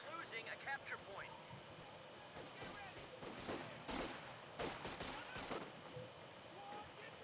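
Machine gun fire in a strategy video game, a gun emplaced in a house: rapid, crackling bursts of shots over constant battle noise, with someone talking over the action throughout.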